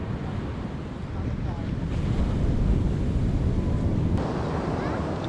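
Strong ocean waves surge onto a beach at Dingalan in a continuous roaring wash, with buffeting wind on the microphone and faint voices in the background.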